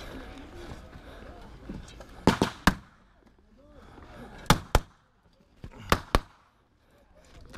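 Blank gunfire crackles in pairs of sharp, loud reports at a WW2 battle reenactment at a fort, with three bursts spaced a few seconds apart over background commotion and shouting voices.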